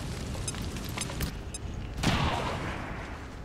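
Frag grenade detonating in XCOM 2, a single loud boom about two seconds in that bursts out and rumbles away, preceded by a few faint clicks and tactical ambience.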